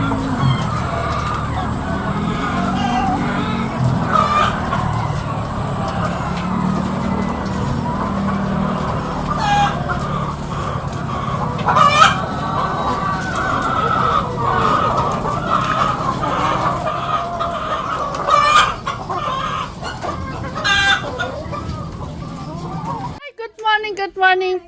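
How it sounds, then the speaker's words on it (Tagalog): Chickens cluck steadily and a rooster crows at a homestead, a continuous close barnyard chorus with voices talking intermittently over it. "Manok."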